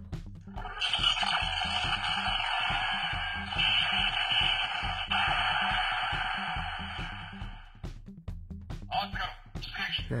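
All-weapons-fire electronic sound sequence from a DX Earth Garon robot toy, a long continuous buzzing barrage followed by choppier bursts, close and fairly loud, with occasional talking over it.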